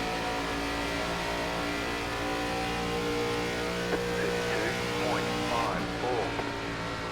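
Race car engine droning steadily in iRacing NASCAR, an ARCA Series car at Atlanta, running low on the apron with a constant loud hum and a few brief tonal shifts, while a spotter's voice talks over it.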